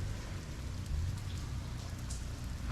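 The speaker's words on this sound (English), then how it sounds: "And it is raining right now." Steady rain falls through a winter storm in Fairbanks, Alaska, a soft continuous hiss and patter outdoors in a snowy backyard, fairly quiet and even with no voices.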